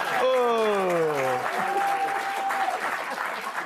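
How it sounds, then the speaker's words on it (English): A studio audience at a live late-night comedy show breaks into warm applause, a voice sliding downward in a drawn-out call at the start before the clapping carries on alone. "Thank you so much for that warm applause"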